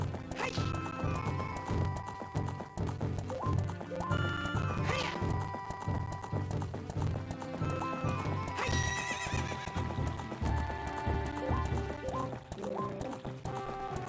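Link's horse gallops across Hyrule Field in Ocarina of Time 3D, with steady clip-clop hooves and loud neighs and whinnies over an orchestral game score, continuous throughout.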